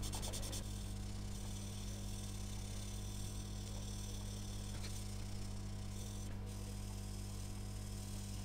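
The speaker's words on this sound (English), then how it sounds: "I am sanding only this piece of foil that I have just applied" Metal foil on a P-51B model airplane kit is sanded by hand, a faint, steady rubbing under a constant background hum with no talking.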